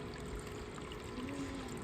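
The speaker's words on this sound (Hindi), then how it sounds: "पानी भरना है, उधर पानी भरना है।" Water pours steadily into a container as it is filled for watering plants in a village, a continuous trickling gush that runs throughout without talk.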